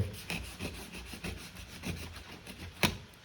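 Cardboard packaging for a SIGNI 75mm macro lens box being cut open, heard as faint, close rhythmic scraping and rubbing strokes with one sharper snap near the end.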